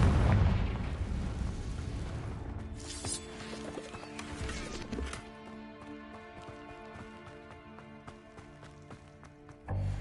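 A spell blast in Hogwarts Legacy opens with a loud, booming explosion that fades into crackling debris and ringing magical tones, followed by a fresh burst near the end.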